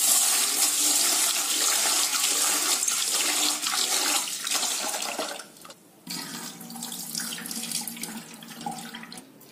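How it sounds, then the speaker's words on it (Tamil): Running tap water splashing into a bowl as urad dal and fenugreek seeds are rinsed, a steady close rush that drops briefly and then resumes softer with trickling and sloshing. "அடுத்ததுங்க உளுந்தும் வெந்தயத்தையும் கழுவிக்கலாங்க. இது 3 தடவை கழுவிக்கலாங்க தண்ணி விட்டு."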